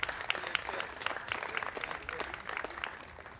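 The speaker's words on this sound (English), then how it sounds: "give yourselves a round of applause" An audience at a charity golf classic applauds with lively, continuous clapping, close and fairly even for the full stretch, with scattered louder claps.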